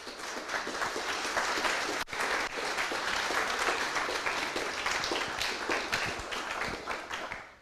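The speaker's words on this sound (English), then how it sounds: "Round of applause, please" An audience at a makers careers fair applauds, a moderately loud run of many individual claps that holds steady for several seconds and tapers off at the close.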